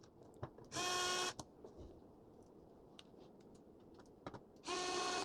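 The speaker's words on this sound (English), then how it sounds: "I'm just putting these screws back in here lightly." A small power driver runs in two short, loud whirring bursts while screws go back into a NitroPress Pro, separated by quiet clicks and faint handling taps.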